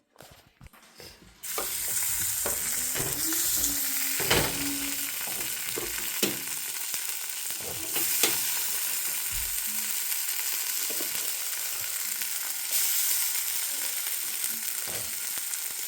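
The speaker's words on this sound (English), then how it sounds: "we are going to put our strips of bacon in there and fry it up till it gets crispy" Plant-based flour bacon strips frying in a hot pan, a loud steady sizzle and crackle that starts abruptly and continues throughout, with occasional small pops and stirring knocks.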